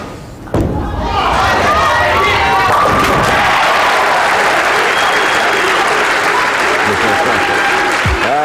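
A capacity bowling crowd at a tournament bursts into loud, sustained applause and cheering after a sharp thud. The noise stays dense and close for several seconds.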